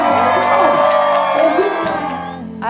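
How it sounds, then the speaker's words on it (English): Wedding guests cheer and whoop for newlyweds Mr. and Mrs. Jared Thomas, a dense, loud crowd roar with shouts rising above it, steady and then easing slightly toward the end. "Now I want everybody to get together, give a big round of applause to Mr."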